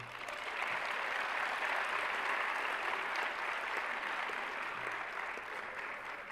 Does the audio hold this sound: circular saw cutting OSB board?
no